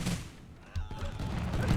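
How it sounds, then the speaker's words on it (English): Bombs dropped by a flying unit in Totally Accurate Battle Simulator burst as a jumble of muffled explosions and crackling impacts, rising after a short lull and rumbling steadily to the end, with faint game chatter underneath. "It bombs its enemy."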